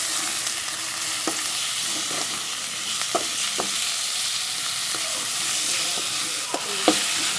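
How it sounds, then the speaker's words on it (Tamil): Chicken pieces sauté in a hot pan with a continuous loud sizzle, broken by repeated scraping clicks of a spoon stirring the meat. "இதை நல்லா வதக்கிடுங்க"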